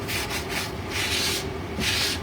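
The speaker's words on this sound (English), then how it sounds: "I will do a light sanding over all of it" Close, rhythmic rubbing of sandpaper over a painted wooden surface, light back-and-forth strokes in a steady scratchy pattern.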